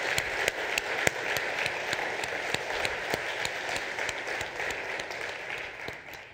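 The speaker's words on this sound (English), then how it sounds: "please stand so that we can applaud you and say thank you." A church congregation applauds veterans at a Sunday service, and the steady clapping holds even and fairly faint the whole way through.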